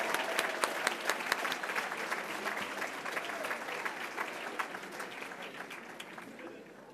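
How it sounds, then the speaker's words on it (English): A ceremony audience at a service awards event gives retirees a sustained round of applause, steady and fairly distant, slowly tapering toward the end. "Let's have a loud and roaring round of applause for our retirees."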